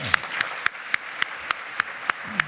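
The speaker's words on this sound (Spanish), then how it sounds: "un aplauso muy fuerte" After a Spanish-language lecture on Europe in the 1920s, an audience claps in soft ongoing applause, with about ten distinct, evenly spaced sharp claps standing out above the quieter patter.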